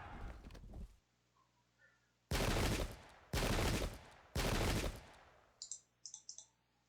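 Musket volleys from the Pike and Shot strategy game: three loud, broadband crackling bursts in succession, each about a second long, followed by a few short clicky interface-like sounds at the end.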